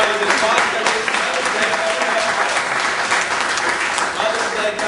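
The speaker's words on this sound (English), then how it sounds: "Let's give all the mothers an applause." Steady, dense applause from an audience at a Zija meeting fills the whole stretch at a loud, even level, with voices in the crowd mixed beneath the clapping.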